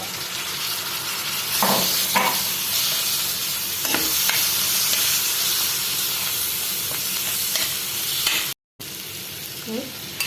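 Sliced onions fry in a pan after chicken masala with a continuous bright sizzle and hiss, interrupted by occasional stirring scrapes and a brief cut to silence near the end.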